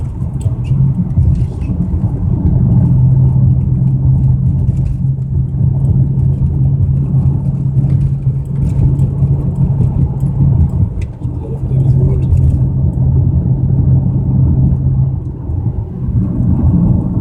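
A BMW 335i engine with a suspected fuel problem runs steadily, giving a continuous low rumble that holds at a fairly constant pitch with a slight dip near the middle.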